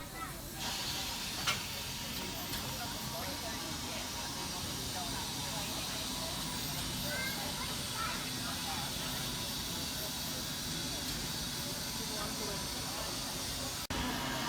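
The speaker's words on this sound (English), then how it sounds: "Here we see is BB 18 1/4 locomotive 1089, who will be providing 2 shuttle trips around a circular loop from Roma Street Station and return" BB18¼ class steam locomotive 1089, built 1950–51 in Newton-le-Willows, England, stands at Roma Street Station with a loud, continuous hiss of steam that holds steady for about fifteen seconds, with one brief knock near the end.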